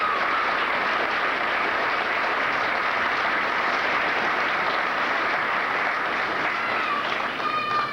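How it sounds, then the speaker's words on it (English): A graduation audience gives the choir a sustained round of applause, a dense, steady wash of many hands clapping from start to finish with no voices above it. "How about a nice round of applause for the choir tonight?"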